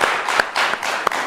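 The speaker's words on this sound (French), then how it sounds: "Oui, on applaudit encore pour notre invité." A studio audience on the Rwandan TV talk show Le Miroir claps for a musician guest, giving a short burst of hand claps with a few sharper, louder claps standing out.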